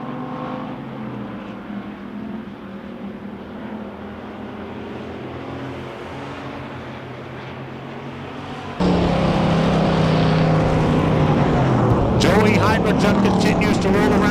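Pure stock race cars circle a dirt track at a WISSOTA event, a steady engine drone under an announcer's commentary that swells sharply louder and denser partway through as the field roars closer.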